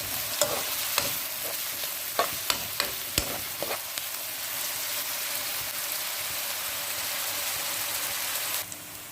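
Sliced onions fry in a pan for mongo stew, a steady soft sizzle with a few sharp clicks of a utensil stirring early on, continuing evenly until an abrupt drop near the end.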